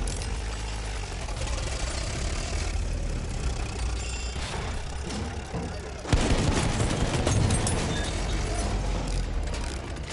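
A tank engine rumbles low and continuous in a video game battle, mixed with scattered gunfire and mechanical clatter, and grows louder and harsher about two-thirds of the way through.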